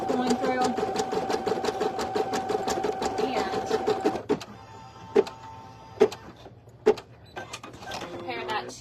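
An embroidery machine stitches an in-the-hoop design with white bobbin thread, a fast, steady mechanical whirring for about four seconds, then slows to a quieter hum broken by a few sharp, separate clacks.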